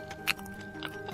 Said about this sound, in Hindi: अमन ने उसके कुरकुरे और स्वादिष्ट फिश फ्राई खाने लगता है